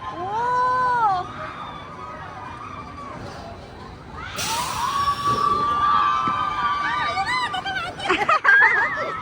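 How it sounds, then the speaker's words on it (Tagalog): On an amusement park ride at Skyranch Pampanga, riders scream and cheer loudly, with rising shrieks and whoops from a crowd, some laughter, and a burst of excited shouting midway through. "Grabe yung sigaw nila."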